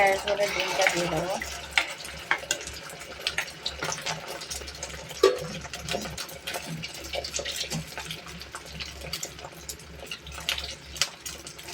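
Egg frying in oil in a pan, giving a steady broadband crackle and sizzle that runs throughout with scattered pops and clinks, fairly close and moderately loud, with no talk over it.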